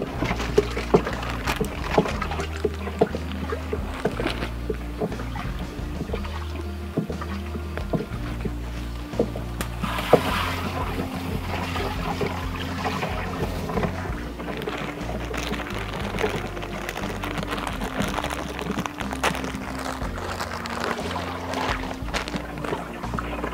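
A 150-liter batch of water with NPK and KNO3 fertilizer being stirred, giving continuous close sloshing and splashing with a churning, uneven rhythm throughout.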